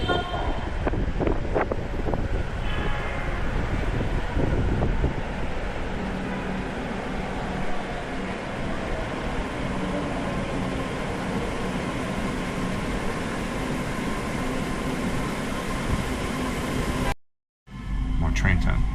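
A Saigon metro train runs with a sustained rumbling roar and rushing wind noise, steady and fairly close for the whole stretch, with a brief dropout near the end.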